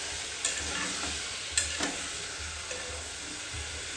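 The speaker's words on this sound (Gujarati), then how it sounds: "તેને બધું મિક્સ કરી દઈશું તેલમાં અને થોડી વાર સાંતળી લઈશું" Cauliflower sautés in hot oil over a high flame, a steady close sizzle and frying hiss with a few clinks and scrapes of a spoon stirring through the pan.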